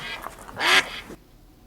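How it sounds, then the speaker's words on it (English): A duck quacks loudly nearby in a short burst of raspy calls, with the loudest quack in the middle, then silence. "A duck makes this sound."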